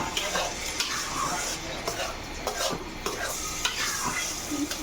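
Small round pitha frying in hot oil in a pan, a dense bubbling sizzle close up with occasional scrapes and taps of a spoon or strainer.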